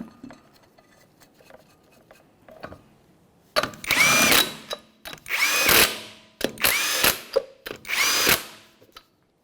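A power tool runs lug nuts onto a 1994-1997 Honda Accord wheel in five loud, close bursts of whirring and rattling, separated by short pauses with quiet workshop clatter before them.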